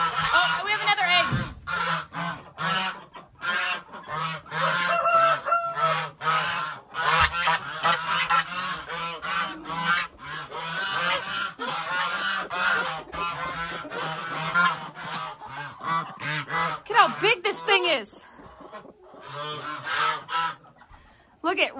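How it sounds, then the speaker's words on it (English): Geese or ducks kept as waterfowl honk and quack loudly and nearly continuously at close range in a busy, overlapping chorus with occasional speech mixed in. "We don't know if these are geese or ducks."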